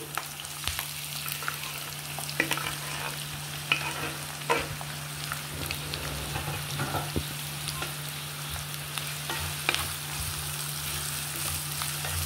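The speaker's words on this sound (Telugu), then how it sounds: "ఆయిల్ హీట్ అయింది. ఇప్పుడు ఉల్లిపాయలు కరివేపాకు వేసేసుకుందాం." Onions and curry leaves fry in hot oil in a pan over high gas, giving a steady close sizzle with intermittent spoon scrapes and clicks, and a low continuous hum beneath; no one speaks.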